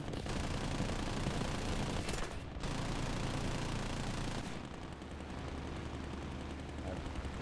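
Aircraft machine guns in the War Thunder flight game fire in a sustained, loud rattle over engine noise, then cut off briefly before resuming under a softer, steady drone.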